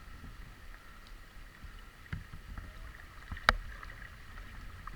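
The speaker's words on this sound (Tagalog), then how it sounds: "Malakas ang agos." Strong current of flood water rushing through a flooded barangay street, a steady low wash with faint splashing and a few brief knocks, heard close and alone.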